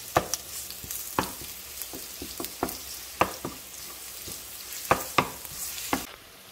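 Ginger garlic paste fries in hot oil for devilled shrimp, a soft, steady sizzle punctuated by sharp spoon scrapes and taps against the pan at irregular intervals.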